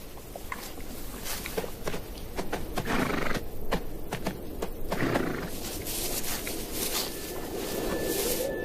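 Wild horses on dry grassland move about with scattered hoof sounds and occasional snorts or whinnies over a steady windy, outdoor background.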